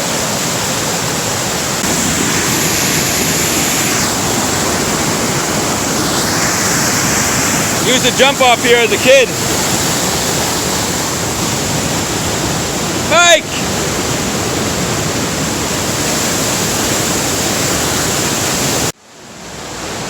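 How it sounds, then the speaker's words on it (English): Big waterfall under a bridge on the Little Hoosick River, a loud, constant roar of rushing water throughout, with a voice speaking briefly over it before the sound cuts off near the end. "We're going to show you what a big ass waterfall looks like."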